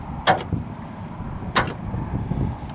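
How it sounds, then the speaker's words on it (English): A Chevy HHR door is opened with a loose door check strap, giving two sharp clunks about a second apart, close and distinct over quiet background. "Is your HHR making this noise when you open the door?"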